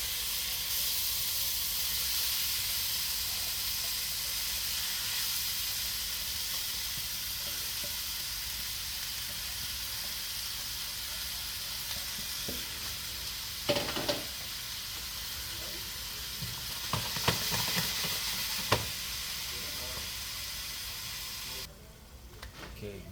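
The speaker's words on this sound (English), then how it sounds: "I have my fish in the pot with the vegetables sauteing done properly." Fish frying with vegetables in hot oil in a pot for Jamaican fish fry rice, a steady loud sizzle and hiss with a few clinks and stirring sounds, ending quieter.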